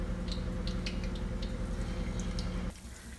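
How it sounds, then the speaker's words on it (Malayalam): Cauliflower pieces for gobi manchurian fry in hot oil with a dense, steady sizzle and small crackling pops, close and continuous, dropping off abruptly near the end. "ഇനി നമുക്ക് അതിലേക്ക് ഓരോ കോളിഫ്ലവർ ആയിട്ട് ഇട്ട് കൊടുക്കാം."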